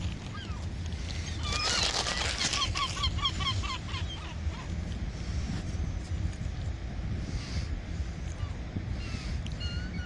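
Seagulls at the Blackpool seaside squawk and call repeatedly over steady wind noise, a burst of close calls early on then scattered cries further off, with no talk.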